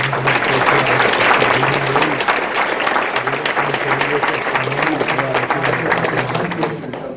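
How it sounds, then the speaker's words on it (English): An audience at a police department awards ceremony gives sustained, loud, dense applause that lasts the whole stretch and tapers slightly at the end, with a few voices mixed in. "let's give a round of applause to these two guys"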